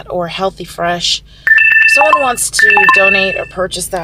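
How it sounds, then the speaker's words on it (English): A phone chimes with a bright electronic alert while charging, two short tonal bursts ringing out under a woman's ongoing speech. "That's my phone charging"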